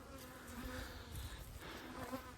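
Bees buzz on a bee farm, a close, steady drone of many insects with the hum rising and falling, and no talking.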